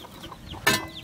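A single short cluck from a chicken cuts through a quiet, hissy background with faint distant bird chirps.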